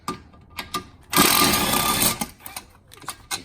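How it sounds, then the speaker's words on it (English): A 10mm electric impact wrench removing bolts on a Fiat 500 Abarth during an oil and filter change, heard close as one loud buzzing burst of about a second, framed by quieter clicks and handling noises. "So I'm going to take my 10mm electric impact, which you can also just use a socket wrench."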